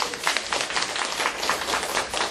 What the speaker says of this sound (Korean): 제가 박수를 왜 치자고 했는지 아시죠?